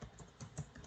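Computer keyboard typing, quiet and close, with irregular clusters of soft key clicks and a few firmer taps.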